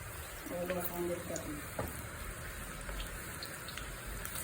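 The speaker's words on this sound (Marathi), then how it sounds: "चला तर मग आपण भजी सोडूया" Onion bhaji batter for crispy crab-style bhaji dropped into hot oil in a small kadhai over medium flame, a soft sizzle with a few brief plops early on, fairly faint, with a little talk.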